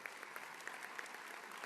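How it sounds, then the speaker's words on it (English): Steady applause from a conference audience, even and fairly faint throughout the short stretch, with no voices rising above the clapping. "let's give him a round of applause"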